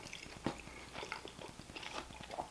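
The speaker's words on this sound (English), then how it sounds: "with as meaty as the sandwich is, it's going to take all my teeth capacity to do so" Close, steady biting and chewing on a meaty steak sandwich, with repeated crunchy bites and wet mastication continuing throughout at a quiet level.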